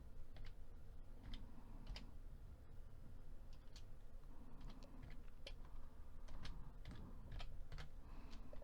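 Computer keyboard keys tapped at a moderate, uneven pace while entering account data in accounting software, crisp clicks in small bursts over a low steady background hum.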